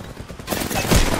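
A brief, dense burst of rapid gunfire crackles up close in the battle-royale shooter Apex Legends, swelling louder in its final half second.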